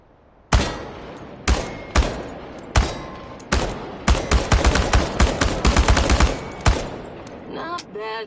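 Automatic gunfire aimed at tin cans in the Chernobylite game: single loud shots spaced about a second apart, then a dense, rapid volley of close, sharp cracks before a last shot and a brief voice.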